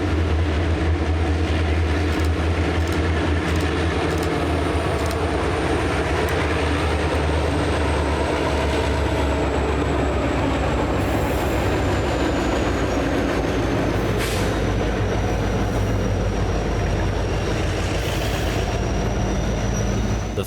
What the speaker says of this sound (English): Green Mountain Railroad Train 263 rolls along Okemo Mountain